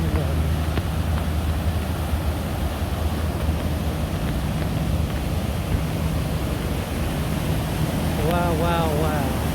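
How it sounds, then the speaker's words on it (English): Whatcom Creek rushes heavily downstream in Bellingham, a loud, steady broadband roar of fast water heard close, with a voice speaking over it near the end. "Look at that water. Boy, is it really coming down."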